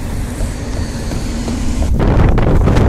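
Extreme wind blowing outdoors beside a house roof, a loud steady roar buffeting the microphone that grows heavier with strong gusts near the end, with no speech.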